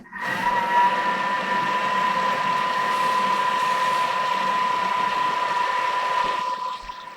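A kitchen mixing machine runs for 20 seconds at speed 5, making a steady mechanical whir with a constant whine from start to finish before it cuts off near the end.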